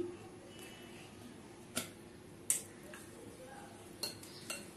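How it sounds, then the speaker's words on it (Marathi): A spoon clinking against a bowl while curd and sugar are stirred together for an eggless tutti frutti cake batter, faint scattered taps and scrapes with a few sharper clinks over quiet background. "छान आपल्याला हे मिक्स करून घ्यायचंय"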